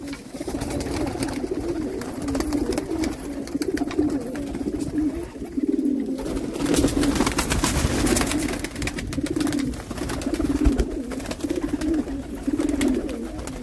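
Golden pigeons at a bird sale in Jammu coo continuously, a dense, overlapping throaty murmur from several birds close by, steady throughout with no talk.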